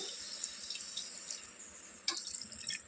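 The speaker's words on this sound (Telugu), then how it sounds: "ఇప్పుడు ఇందులో వాటర్ యాడ్ చేసుకోవాలి" Water pours steadily into a pan of fried mutton for curry. The trickle is close and continuous with brief splashy bursts, and no one speaks.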